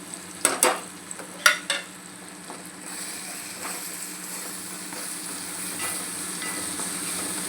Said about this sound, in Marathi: मसाला चांगला एकदम मस्त असा परतवून घ्यायचा आहे.